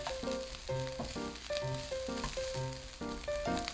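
Onion sizzles in a pan until golden brown for Japanese hamburger steak, a soft continuous frying hiss running beneath rhythmic melodic music.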